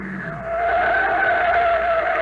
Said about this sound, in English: Hey, what's that car doing? He's coming right out on the field.